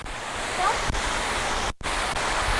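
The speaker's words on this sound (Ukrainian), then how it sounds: "Як тобі водоспад?" Narinetskyi waterfall in the Carpathians, a loud, continuous broadband rush of falling water filling the whole clip, with a brief dropout near the middle.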